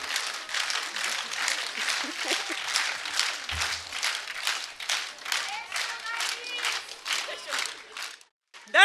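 An audience at a Ukrainian concert claps in a steady, rhythmic unison beat that holds loud and even for several seconds, then breaks off abruptly near the end.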